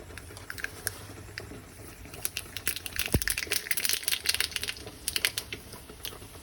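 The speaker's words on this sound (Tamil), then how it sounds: "இப்போ கடுகு போடுறோம்" Mustard seeds spluttering and popping in hot oil for a spicy egg dosa in a home kitchen: a dense run of quick, sharp crackles, near and fairly loud, with scattered bursts of pops and no talk.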